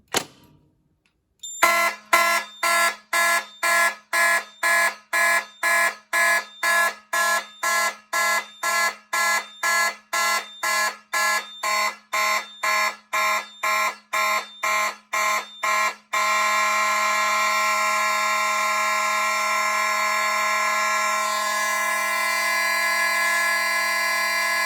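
A Simplex fire alarm panel sounds for a simulated agent release. Loud, evenly spaced horn blasts repeat about twice a second for roughly fifteen seconds, then give way to a continuous steady tone that holds to the end.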